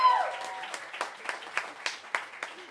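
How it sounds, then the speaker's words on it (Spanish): A studio audience applauds a guest actress on a Spanish-language talk show, a burst of clapping that starts loud and then continues in lighter, rhythmic waves of claps. "Por favor, un fuerte aplauso a Magida Isa."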